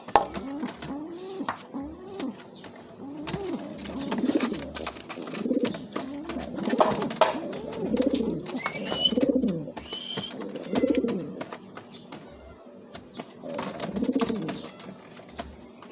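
Pigeons cooing repeatedly among rice plants, their soft rhythmic coos rising and falling through the clip, with occasional light clinks and faint background sounds.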